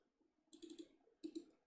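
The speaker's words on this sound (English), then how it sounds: "So right click" Two sharp computer mouse clicks, each a quick double tick, sound close and quiet against a near-silent background, about 0.7 seconds apart.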